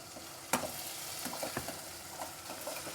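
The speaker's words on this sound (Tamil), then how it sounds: "நல்லா வதங்குது பாருங்கள்" Tomato and green chilies sautéing in a pan for vegetable wheat upma, a quiet continuous sizzle broken by a sharp clack near the start and light stirring scrapes, close with no talk.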